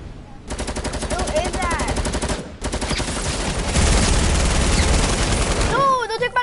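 Gunfire in an online shooter video game on PS4, heard as loud sustained rapid automatic bursts filling most of the moment, with a brief pause and players talking at the start and end.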